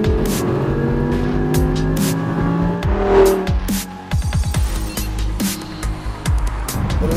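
An Audi R8 LMX sports car driving hard on a damp track, the engine rising through revs with gear changes and sharp shifts, loud and close, accelerating repeatedly.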